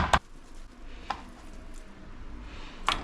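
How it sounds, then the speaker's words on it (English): Chicken cutlets pounded thin under plastic wrap: a few separate dull thuds, the first loudest, spaced irregularly over a quiet kitchen background. "Pound out a little bit. Nice and thin chicken cutlets."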